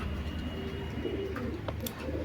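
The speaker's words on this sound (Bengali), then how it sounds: "বিয়ার্স এখন যে কবুতরটা দেখতে পাচ্ছেন" Pigeons of the Oman KTM bloodline coo in a low, throaty, rolling rhythm that repeats steadily throughout, close and clear, with a few faint higher chirps near the end.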